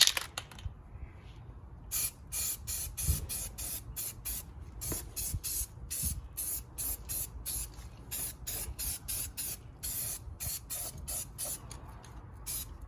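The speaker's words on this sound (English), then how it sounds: "this is Rust-Oleum Rust Reformer. Instantly converts rust into a protected paintable surface" Rust-Oleum Rust Reformer spray paint hisses from an aerosol can onto boat trailer brake parts in a run of short, evenly spaced bursts, with faint handling clicks between them.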